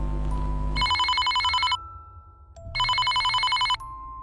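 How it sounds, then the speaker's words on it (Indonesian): A home telephone rings loudly in two long bursts of rapid electronic trilling, separated by a short pause, with a low rumble at the start before the first ring. "tiba-tiba telepon rumah bunyi"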